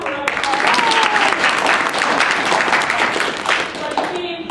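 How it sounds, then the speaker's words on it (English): A crowd at a convention self-defense class applauds, a dense burst of clapping that fills several seconds at steady strength before tapering, heard close with some voices mixed in. "Let's give him a round of applause."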